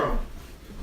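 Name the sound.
stirring macaroni noodles in a pot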